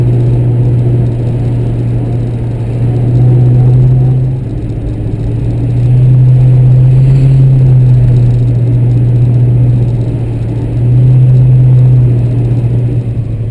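A 1965 Ford Mustang Fastback on a test drive, its engine a loud, steady low rumble heard from inside with a few swells as the throttle opens, under constant road noise.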